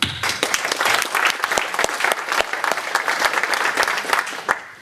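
Audience applause at a live coaching demonstration, a dense steady clatter of many hands clapping for about five seconds, fairly loud and close, with no talk over it.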